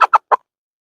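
A chicken being handled during a health check gives three short, close clucks in quick succession, then falls silent.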